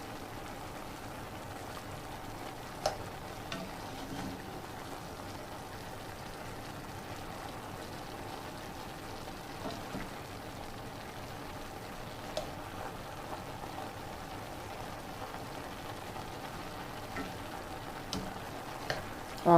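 Kale greens stir-frying in a pan, a faint, steady low sizzle and crackle with occasional small ticks and pops, continuing evenly without talk.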